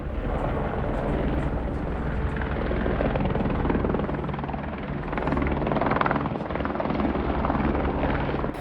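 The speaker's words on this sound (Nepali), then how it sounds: "हेलिकप्टर आयो" A helicopter arriving on the Lapchi trek, its loud, steady rotor thump and engine roar close and continuous throughout, swelling slightly toward the middle.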